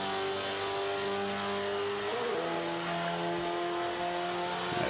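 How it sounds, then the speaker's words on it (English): Powerful car engine in the racing game Forza 5, revving hard and steady with a couple of sharp pitch shifts as the tyres spin, loud and continuous with no talk. "Tires will not stop spinning with all that torque."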